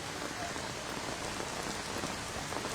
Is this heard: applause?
no